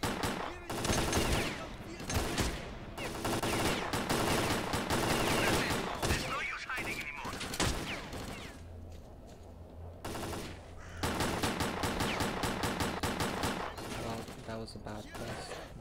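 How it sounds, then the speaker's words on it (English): Gun bursts in S.T.A.L.K.E.R.: Clear Sky ring out loud and close, rapid volleys of shots with brief pauses, the in-game weapon firing repeatedly against bandits. "Let's just test out our gun."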